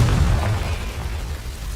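Confringo fire spell going off in the Hogwarts Legacy game: a single loud, deep explosive boom that rumbles and slowly fades over a couple of seconds.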